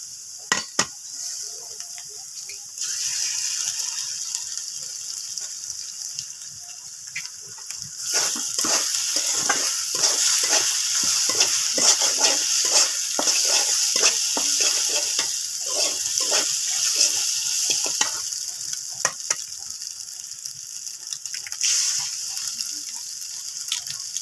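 Eggs fry with onions in a pan, a quieter sizzle at first that swells into a loud, dense crackling hiss with stirring scrapes, close and continuous with no talk.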